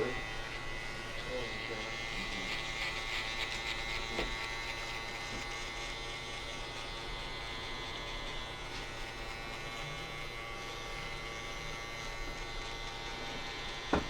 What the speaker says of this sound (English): I like to use this Andis outliner